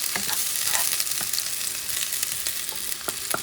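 Onions fry in hot oil for shrimp pancit bihon, a loud, steady hiss and crackle close at hand, with occasional soft scrapes of stirring poking through the sizzle.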